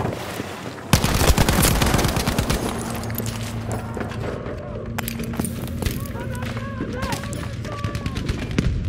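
Battlefield V gameplay erupts into dense gunfire after a shout, with rapid automatic bursts and scattered shots continuing under in-game voices and battle noise.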